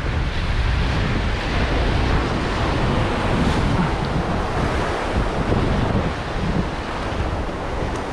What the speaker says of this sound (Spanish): El viento ahora sopla de espaldas